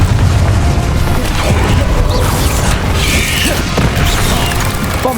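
A Confringo fire spell explodes in Hogwarts Legacy, a loud sustained booming crash with smashing debris and rumbling layers of combat noise running throughout.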